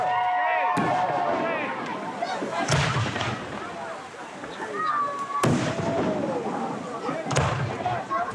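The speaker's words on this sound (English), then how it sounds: "the fireworks begin" Fireworks burst over a small backyard party after a water-slide conga line, sharp cracks and booms recurring every couple of seconds with whistling crackle in between, while people chatter and cheer throughout.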